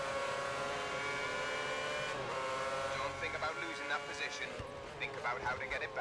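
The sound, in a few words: race car engine in the F1 2010 video game at Catalunya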